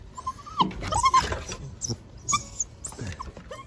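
A puppy whimpers with high, thin rising and falling whines, broken into several short cries with quiet gaps, close by.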